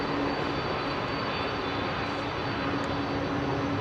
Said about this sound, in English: That's why you hear them power the engines up when they're coming from that side if they've been at a standstill.